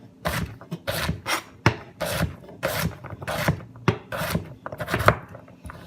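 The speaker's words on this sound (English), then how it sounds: "I will cut the other half." A knife dices yam on a cutting board in a quick run of about ten sharp, evenly spaced chops, each a crisp blade strike through the tuber into the board, with no talking.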